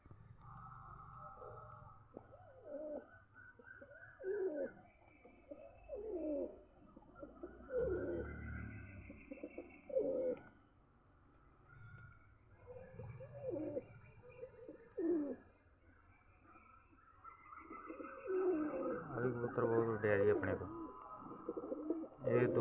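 Pigeons coo softly and repeatedly at a grain feeding spot in the rain, low throaty calls coming in bursts with faint chirps, fairly quiet and building toward the end.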